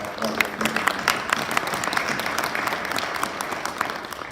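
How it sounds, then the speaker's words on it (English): Audience at an inland port symposium clapping for a commissioner, a dense, fairly loud round of applause with individual claps standing out, sustained for the whole stretch. "I just want to give a good applause for Commissioner Price"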